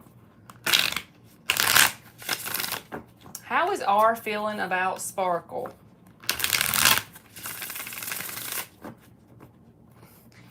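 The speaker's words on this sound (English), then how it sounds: "We got to shuffle it again because they're being dumb." Tarot cards are shuffled by hand during a live reading, riffling in several short bursts before and after a brief stretch of talk, close and fairly loud.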